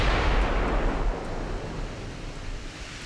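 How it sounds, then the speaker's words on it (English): A naval salvo from 14-inch battleship guns in the game Ultimate Admiral: Dreadnoughts booms with a deep, loud rumble at the start, then fades into a long rolling roar with no one speaking. "just in the first salvo here, we're landing some hits"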